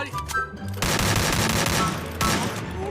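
Gunfire from players shooting at each other in the battle-royale game Free Fire: a brief lull, then two dense, loud bursts of rapid automatic fire, alone with no voices.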